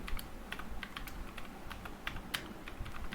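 Quick, light clicking of keys as a prompt is typed on a computer keyboard, a fast irregular patter that stays soft and close with no talking over it.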